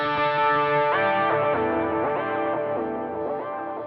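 An electric guitar runs through delay on a Line 6 Helix, with repeating trails that layer and swell into an ambient wash and hold steady for several seconds without any voice.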